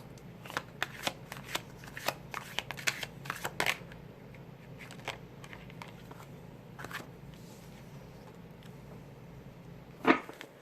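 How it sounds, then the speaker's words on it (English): Tarot cards are shuffled and moved across a table in a quiet room, making a string of soft riffles and flicks, then a sharper slap near the end. "Sorry that I keep moving the cards"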